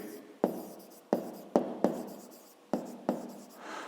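Pen strokes scratch across paper in short bursts, about six quick, close strokes with brief pauses between, heard alone in a quiet room.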